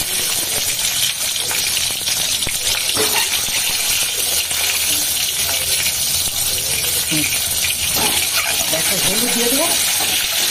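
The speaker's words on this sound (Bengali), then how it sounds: "ডিমটা আগে ভেজে নিচ্ছি।" An egg fries in a pan in a home kitchen, giving a steady, close, fairly loud sizzle with occasional scrape and clink of stirring, with no talk over it.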